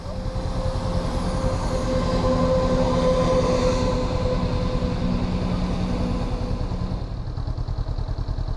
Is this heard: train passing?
yes